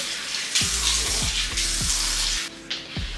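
Water runs from a bathroom tap into a sink during face washing, a steady hiss broken by rhythmic splashing and dips as hands catch and scoop the stream, close by and with no talking.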